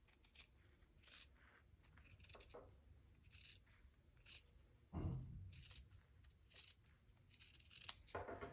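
Close, quiet snips of sewing scissors trimming and clipping fabric seams and curves, a string of short crisp cuts at irregular intervals with a louder clatter around the middle.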